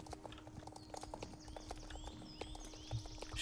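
Clip-clop of a ridden horse's hooves in a video game forest, a quick steady rhythm of close hoofbeats with faint bird chirps in the background.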